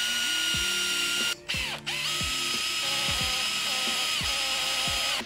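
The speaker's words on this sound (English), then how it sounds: "All I'm going to do is run this drill tap into this aluminium, which will then create a thread inside it" Drill tap threading holes in aluminium for M4 bolts, a close whirring power-tool motor with repeated ratcheting clicks and short pauses as the tap cuts.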